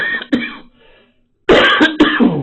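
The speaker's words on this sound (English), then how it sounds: "Sorry about the coughing" A person out visiting Oxford coughs in several loud, close bursts, a single hack followed by a quiet pause and then a rapid cluster of harsh coughs.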